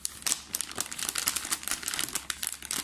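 A plastic bag crinkles and rustles in quick, irregular bursts, close and moderately loud, with no voices over it.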